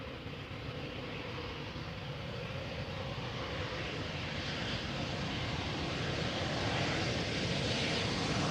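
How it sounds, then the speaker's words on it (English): A KLM Embraer 190 jet airliner arriving at Amsterdam Schiphol airport roars with a steady, broad engine rumble and rushing noise, loud and constant throughout with no talking. "KLM flight 1926 arriving from Geneva in Switzerland"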